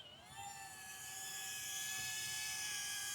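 A SYMA X990 remote control toy helicopter lifts off on auto takeoff, a steady high-pitched rotor and motor whine that climbs in pitch and holds close and loud, with no voices.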